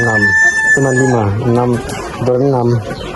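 Chickens and a rooster in a livestock pen, with a rooster's loud, drawn-out crowing repeated close by over continuous clucking and flock noise.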